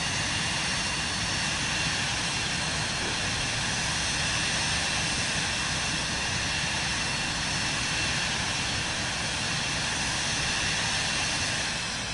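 A fixed-wing jet drones steadily in Microsoft Flight Simulator 2024, a constant loud engine roar with a broad, unchanging hiss and no breaks.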